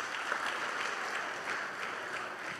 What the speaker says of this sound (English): Clap it up one more time for them.